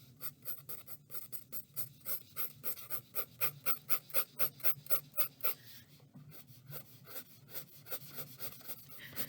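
A #2 pencil shades back and forth across an ordinary sheet of paper in steady, rhythmic scratchy strokes. A brief pause interrupts them before softer rubbing resumes, heard up close with no voices.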